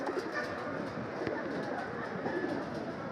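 Pigeons coo and call at a loft as birds return from a 58 km race, a steady murmur of calls under constant outdoor background noise.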